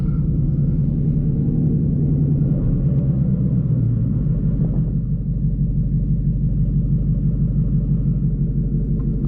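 Steady low engine rumble from a 900 hp Ford Mustang cruising at night, a continuous loud drone with slight shifts in tone as it drives, no voices.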